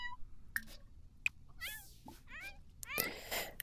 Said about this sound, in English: Our cat's sick.